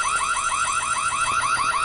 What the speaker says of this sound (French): L'alarme dit qu'il y a un intrus dans l'école.